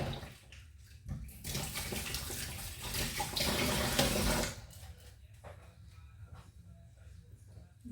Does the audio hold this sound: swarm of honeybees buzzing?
no